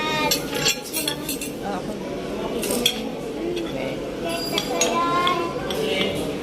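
Cutlery scrapes and clinks against a plate while food is mixed, a busy run of close metallic taps and rubbing over a steady room hum, with voices in the background.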